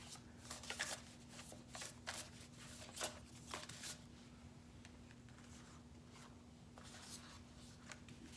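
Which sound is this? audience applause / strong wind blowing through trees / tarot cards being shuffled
tarot cards being shuffled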